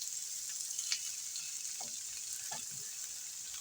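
Food frying in a pan gives a close, steady hiss that fills the whole stretch, with a few faint scrapes or taps underneath and no one talking.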